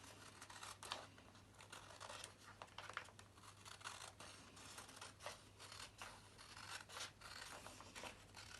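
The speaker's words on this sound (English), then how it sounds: "I'm cutting this spare bit off." Scissors snipping a spare strip off a folded paper triangle for Easter origami, a close, steady run of crisp cuts and rustling paper that continues throughout.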